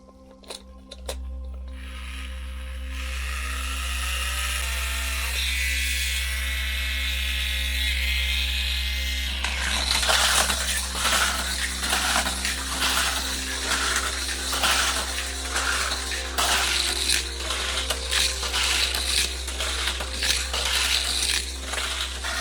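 Crash Racers Figure 8 toy race cars run on their plastic track, a loud, busy whir and rattle that starts after a steady hum and continues densely with clicking and clattering, no voices over it.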